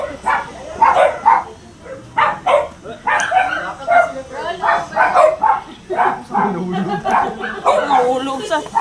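A dog barks in a run of sharp, repeated bursts with some yips mixed in, close and fairly loud, while people talk over it throughout.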